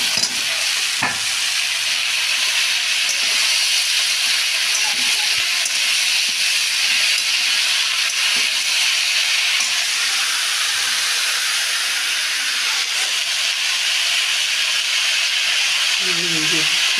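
Potato greens tossed into a hot pan set off a loud, steady sizzle and hiss that fills the whole stretch at close range, with a few faint knocks.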